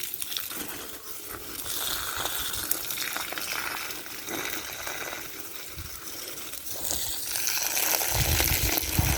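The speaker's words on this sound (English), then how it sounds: "A little bit of water, just a little bit." Water pours gently from a container onto potted garden plants, banana and hibiscus among them, in a continuous soft splashing trickle that swells slightly toward the end.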